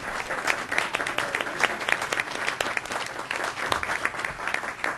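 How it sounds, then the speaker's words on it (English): Sustained applause from a board meeting audience honoring the Governance Committee members, dense steady clapping filling the room at close range for the whole stretch, with no talk over it. "I would like to ask all of the hard-serving Governance Committee members to please stand so we could applaud their service."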